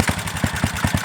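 A small gasoline generator engine, just pull-started, runs with a rough, rapid pulsing chug and strong vibration, steady and close by, with no talking.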